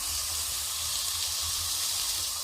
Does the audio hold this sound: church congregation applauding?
no